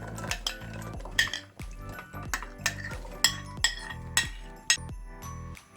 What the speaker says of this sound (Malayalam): ഇതിലേക്ക് ഞാൻ കപ്പ ഇട്ട് കൊടുക്കുവാണ്.